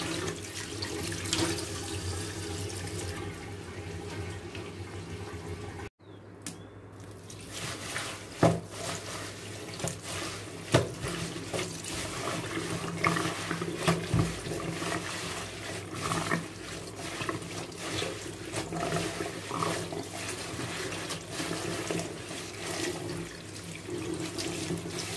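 Steady running tap water splashes into a sink as vegetable greens and flower stems are rinsed in a home kitchen, a continuous close wash with a brief break near the start.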